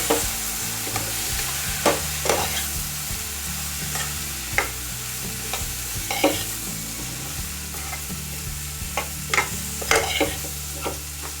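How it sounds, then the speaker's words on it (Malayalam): Green chillies sauté in hot oil for a potato and beans curry, a continuous close sizzle broken by a steady run of spatula scrapes and knocks against the pan. "ഒരു 3 മിനിറ്റോളം ഇത് നമുക്കൊന്ന് വഴറ്റി കൊടുക്കണം."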